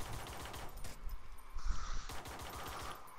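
Sniper rifle gunfire in a first-person shooter video game, a few loud, close shots with a brief mechanical rattle between them and no talk.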